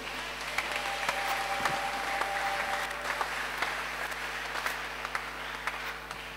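A church congregation applauds at a closing worship gathering, with sustained, fairly even clapping from many hands filling the room and no distinct voices over it.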